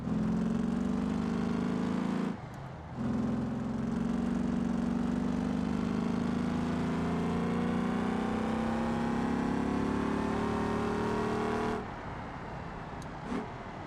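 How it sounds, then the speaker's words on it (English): Simulated V6 car engine in the driving game BeamNG, a steady droning hum with rising pitch that runs for several seconds, broken by a brief dip near the start and fading to a lower idle at the end. "It really could be a V6 car."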